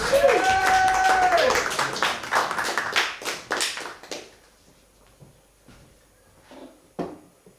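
Comedy club audience in Hull claps for a comedian taking the stage, a burst of close, dense clapping with a cheer that thins into a few scattered claps and then quiet.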